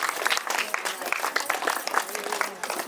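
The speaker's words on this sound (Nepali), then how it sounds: "र ताली रोकिनु भएन यस समयमा" Guests applaud at a wedding ceremony, a sustained round of clapping from a nearby crowd with a voice speaking over it throughout.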